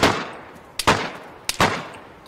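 Gunshots in the survival game DayZ: three sharp, loud reports spaced under a second apart, each with a quick echoing tail, close and clear with no talk.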